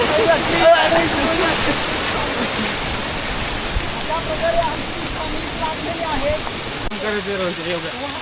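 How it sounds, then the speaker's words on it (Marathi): A jungle river rushes under pressure near a forest trek crossing, a steady loud broadband roar of flowing water filling the whole stretch, with faint voices underneath. "जे पाणी जे इथून वाहतंय ना प्रेशरने"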